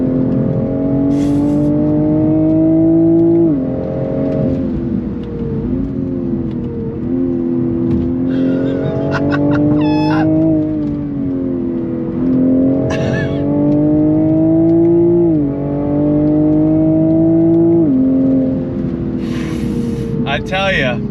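A 2022 Toyota Supra 3.0 with a turbocharged three-litre straight six is heard loud and close from inside, its engine note rising and falling through braking and quick downshifts with sharp blips, while people talk over it.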